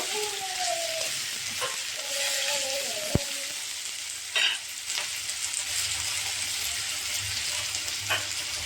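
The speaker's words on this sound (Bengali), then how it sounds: "পেঁয়াজ ভেজে নেব লাল করে।" Steady sizzle of onions frying in a hot pan with caramelised sugar, with occasional stirring scrapes and a sharp clink near the middle; no voices.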